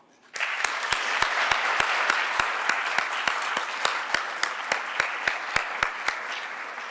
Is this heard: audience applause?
yes